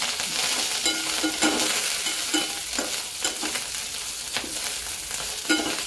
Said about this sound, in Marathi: आणि तिला परतून घ्यायची फोडणीमध्ये।